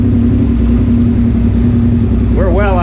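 A Suzuki SV650S motorcycle engine runs loud and steady at close range with a constant idle drone, then a rising whine enters near the end as it starts to rev.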